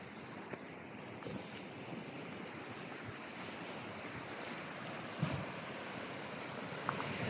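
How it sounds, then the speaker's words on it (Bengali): Ocean surf rolling in below a high coastal lookout in Portugal, a steady broad wash of waves with wind buffeting the microphone throughout, no voices. "আর এখান থেকে পুরো এই যে সমুদ্র।"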